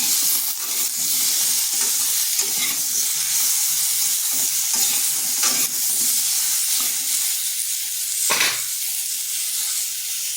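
Cubed potatoes and pointed gourd sizzle steadily in hot oil in a pan with salt and turmeric, a continuous bright frying hiss with occasional stirring scrapes, close and loud throughout with no talk.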